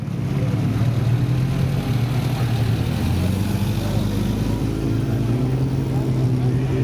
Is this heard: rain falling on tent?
no